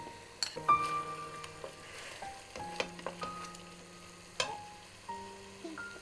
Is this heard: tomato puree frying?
yes